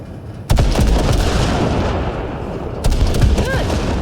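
Heavy gunfire and booming blasts from guns shooting at ship wrecks in Cyberpunk 2077: two loud onsets, each followed by sustained rapid firing and rumble, close and dominant.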